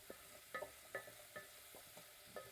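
Onions and curry leaves sautéing in sesame oil with fennel seeds, a soft sizzle broken by a handful of sharp spoon-on-pan scrapes and clinks as the mixture is stirred, fairly quiet and with no voices.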